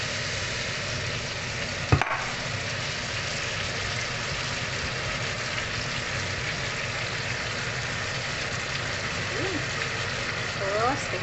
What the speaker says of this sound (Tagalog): Ayan, lagyan pa natin ito ng water.